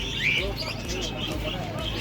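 Pigeons for sale at the Tuzla flea market give a brief chirp and soft cooing, mixed into steady crowd noise and background chatter.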